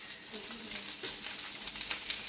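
Mushrooms, onions and lardons fry in a pan with parsley, a soft, steady close sizzle with faint crackles and a few sharper pops, no talking.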